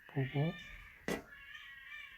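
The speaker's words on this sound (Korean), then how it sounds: "저희 집 뒤에 고양이들이 지금 좀 다투는 소리가 들렸는데" Cats fighting behind a house, two short yowling cries close together followed by one sharp, louder screech, heard alone against a quiet indoor background.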